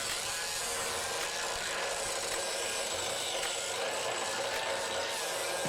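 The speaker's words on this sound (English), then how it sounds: "we'll just grind it until it fits" Grinder works continuously on the bowed bottom panel of a 1949 Jeep Willys pickup cab, a steady harsh close metallic whine with no pauses.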